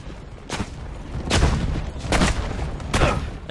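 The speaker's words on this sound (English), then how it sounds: "Stop with that machine gun thingy." A machine gun in Assassin's Creed Brotherhood booms out four heavy, evenly spaced shots over a low rumbling bed, each blast broad and loud, no voice heard.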